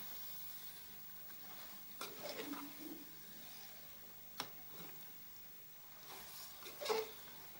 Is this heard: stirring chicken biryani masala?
yes